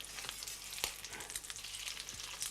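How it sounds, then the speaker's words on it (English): Sweetbreads sautéing gently in a pan over a very low gas flame, a quiet, continuous sizzle with small crackling pops and faint stirring sounds. "They sauté away gently till they're slightly golden brown on a very low gas"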